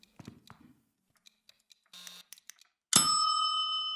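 An egg timer in a horror video game bursts into a loud, sustained metallic ringing that carries on to the end, after a run of scattered soft clicks and footsteps.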